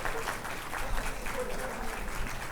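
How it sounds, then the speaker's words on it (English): A conference audience claps to welcome a government minister joining a ports panel, a steady moderate round of applause with faint voices mixed in. "We will take a moment to welcome him with a round of applause."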